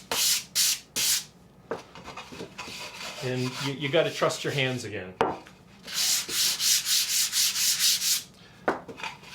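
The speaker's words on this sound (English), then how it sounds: "I take a piece of 220 grit sandpaper" Quick, rhythmic strokes of 220-grit sandpaper rub back and forth over a polyurethane finish on cherry wood in short bursts, pausing while someone speaks briefly.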